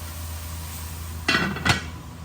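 A metal lid set onto a cooking pot of pancit palabok sauce with ground pork, giving two quick clinks close by against a low steady hum.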